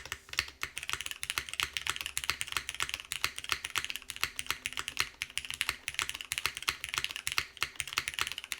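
Fast, continuous typing on a Constance TKL mechanical keyboard, a dense run of crisp, close keystroke clicks and clacks with no talking.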